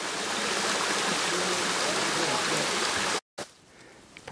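The Chattooga River, a mountain stream in the North Georgia Mountains, rushes with a steady, loud, close-up hiss of flowing water that cuts off abruptly near the end and returns much fainter.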